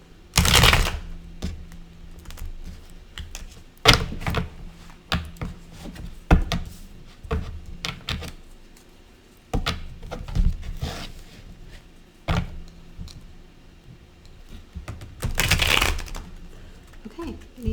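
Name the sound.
shuffling tarot cards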